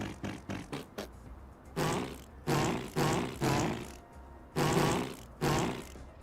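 Fart sounds from the fart mode in the video game Ashes of Creation: a quick run of short, sputtering toots followed by several longer, louder blasts, each separated by a brief pause, with no talking.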